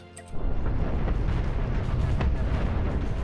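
Missiles launching and blowing up in the space-combat game Cosmoteer, a sudden onset of dense, continuous rumbling explosions and booming impacts that stays loud and steady throughout.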